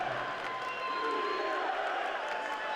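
Los Angeles home crowd at a 2017 Legends Football League stadium game against Pittsburgh, a faint, distant, continuous wash of cheering and applause.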